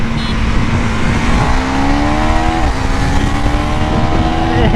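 A Yamaha R3 and a KTM Duke 390 accelerating hard in a drag race from second gear, loud rising engine whine climbing steadily in pitch with a brief dip at a gear change, close and continuous.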